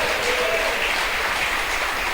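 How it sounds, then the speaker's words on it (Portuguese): A church congregation applauds during a Portuguese-language sermon, with sustained, dense clapping from many hands, fairly loud and even throughout, and a faint murmur beneath it. "Você pode aplaudir o nome do Eterno"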